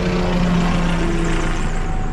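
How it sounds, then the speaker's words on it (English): A helicopter drones steadily overhead, its low rotor thrum and engine whine constant and fairly loud throughout. "Got a helicopter going overhead."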